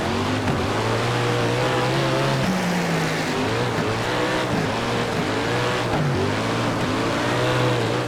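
Dirt race car engines in a racing video game snarl and rev continuously, the pitch rising and dipping as the cars accelerate and back off, loud and up close throughout.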